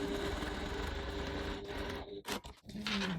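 A sewing machine top stitches a seam 3 millimeters from the edge on the base of a crossbody bag at stitch length 3.0, running as a steady continuous whir for most of the time, then briefly stopping and restarting.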